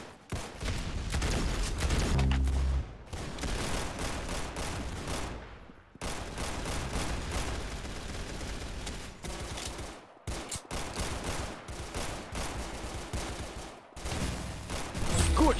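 Relentless gunfire in the Roblox shooter Arsenal: loud, dense bursts of rapid shots that run almost continuously, broken only by a few brief pauses.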